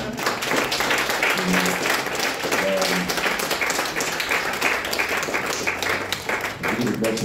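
A church congregation applauds and cheers together at a French worship service, with dense, sustained clapping filling the room. Voices and music-like tones run underneath the applause.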